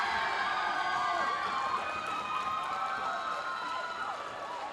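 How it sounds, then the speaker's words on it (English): Loud, sustained crowd noise from spectators at a university Roses 2024 badminton event, a steady roar of cheering and shouting with whistles running continuously across the whole stretch. "If you're wondering what that very loud cheering is"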